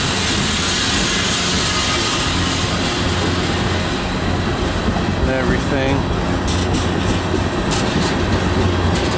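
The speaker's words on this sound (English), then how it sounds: "the clacking of the railroad track" Cargo train rolling past on railroad track, a steady loud rumble with rhythmic clacking of wheels over rail joints, and a person speaking briefly over it.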